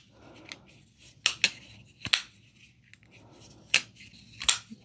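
Sharp, close metallic clicks come from a Ketuo Syndicate folding knife with a mirror-polished blade and zirconium-titanium handle as it is flipped repeatedly, the snaps arriving in pairs and singles amid faint rustle from gloved hands.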